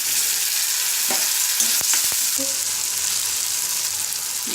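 Onions, tomato and ginger garlic paste fry in a pan with a loud, continuous sizzle, broken by a few scraping stirs and clinks near the middle.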